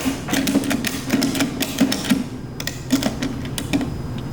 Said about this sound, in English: and then we ratchet until tight